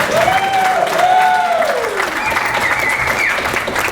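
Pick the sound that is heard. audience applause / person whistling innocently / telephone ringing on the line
audience applause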